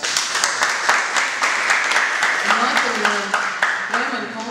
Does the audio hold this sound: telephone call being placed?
no